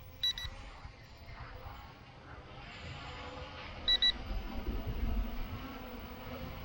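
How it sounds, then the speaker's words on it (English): A budget brushless beginner drone's transmitter, a KBDFA H16, gives its low-battery telemetry warning: two short, high double beeps several seconds apart, faint against quiet background hiss. "the transmitter is beeping. So it's got the warning beep for telemetry there."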